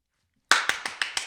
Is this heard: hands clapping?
yes